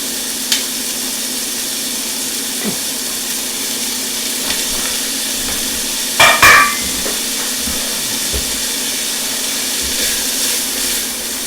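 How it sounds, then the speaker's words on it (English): Onions saute in a pan for birria tacos with a steady, fairly loud sizzle and hiss. A few faint clinks and a brief scrape of stirring come near the middle. "Now we're just going to go ahead and we're going to saute the onions a little bit"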